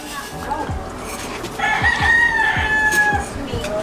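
A rooster crows loudly and close by in Cebu City, Philippines, a long rising call, while other chickens cluck faintly in the background.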